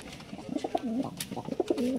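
Soft, rolling coos from a pair of pigeons, several short repeated calls close by with no talking.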